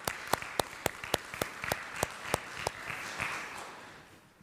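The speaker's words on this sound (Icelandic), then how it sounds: "Ég held ykkur hafa alveg langað til að klappa fyrir henni, ekki bara leyfa okkur það." A church congregation claps during a service, with a few distinct, evenly spaced near claps at first, then thinner scattered clapping that fades out.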